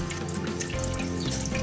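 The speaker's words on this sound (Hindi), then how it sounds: "सबसे पहले मैंने इस इमली का पानी निकाला है और इसको छान लेंगे हम अच्छी" Tamarind water poured through a strainer to hold back seeds and pulp, a steady splashing, trickling stream close by with no talking, like water running into a sink.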